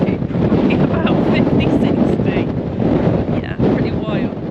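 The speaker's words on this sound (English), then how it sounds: "We had about 80-90 mile an hour gusts" Strong storm wind gusts of around 80–90 mph batter the microphone at a campsite during Storm Floris, a loud, continuous roaring buffet with surging gusts throughout and faint voices underneath.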